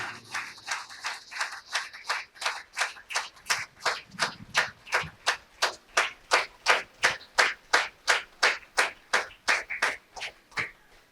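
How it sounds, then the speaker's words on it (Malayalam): Audience at a magazine launch event claps in a steady, rhythmic unison beat, roughly three claps per second, moderately loud and building slightly before fading over about eleven seconds. "ഒരു നിറഞ്ഞ കൈയടിയോടുകൂടെ"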